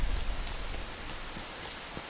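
Steady hiss of heavy rain pouring down in the PS4 video game Rain, even and unbroken, with a couple of faint high drips standing out.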